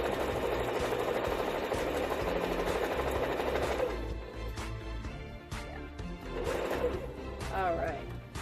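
A sewing machine runs steadily, stitching quilt squares with a quarter-inch seam for a zipper-pattern signature quilt, its motor whirring loudly for about four seconds before dropping to softer, intermittent bursts.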